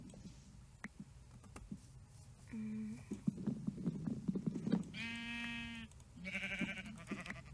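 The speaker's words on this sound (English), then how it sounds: "I may have killed a sheep." Sheep in a Minecraft-style game bleat in two distinct buzzy calls amid scattered keyboard clicks and game noises, fairly close and clear.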